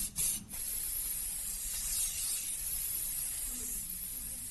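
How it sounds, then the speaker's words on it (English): Hairspray misted onto freshly set curls, with a couple of short bursts followed by a long, steady close hiss. "hairspray."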